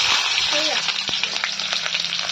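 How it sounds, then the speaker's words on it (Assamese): Radish pieces frying in a pan in an Assamese home kitchen, a steady close hissing sizzle throughout with a faint stirring clack partway through. "মূলাকেইটা ভাজি লওঁ"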